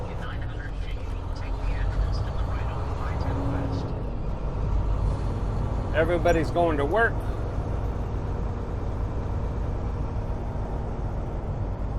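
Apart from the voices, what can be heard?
busy intersection traffic with trucks and cars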